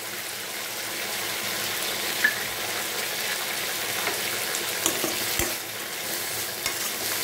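Chopped tomatoes and curry leaves sautéing in a pan for egg podimas make a continuous close sizzle, with occasional soft scrapes and clicks from stirring throughout.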